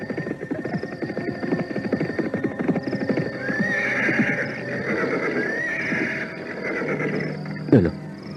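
Three approaching horses produce rapid clip-clopping hooves and repeated whinnying neighs, fairly loud and close, with a sharp thump near the end.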